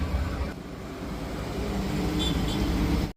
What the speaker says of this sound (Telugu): ఇప్పుడైతే కొంచెం ట్రాఫిక్ సౌండ్ ఇవన్నీ వినిపిస్తున్నాయి కదా